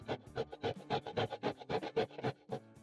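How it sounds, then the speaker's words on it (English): Coconut is grated on a hand grater in quick, rhythmic rasping strokes, about a dozen close scrapes in steady succession with short gaps between them. "then you're going to be grating in your coconut"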